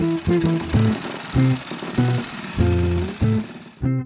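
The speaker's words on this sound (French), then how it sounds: "Alors c'est une Moto Guzzi 250 Heron." A 1954 Moto Guzzi 250 Airone vintage motorcycle engine running during a classic-motorcycle ride tour in Calvados, loud and close, with a lumpy, pulsing single-cylinder beat that rises and falls in repeated bursts.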